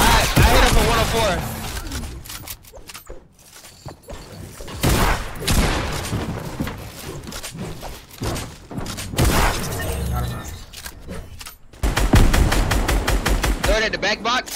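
Rapid bursts of automatic gunfire tear through walls in a competitive team video game, with crashing breakage and thuds. The loud volleys come and go over about fifteen seconds, mixed with player chatter.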